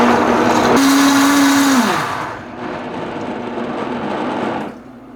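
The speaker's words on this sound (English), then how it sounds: "now I'm going to put the lid on top, and now we're going to blend it" A blender whirring strawberries into a smooth yogurt base, a loud close motor hum that shifts pitch as it runs, then winds down and fades to a quieter rumble before stopping.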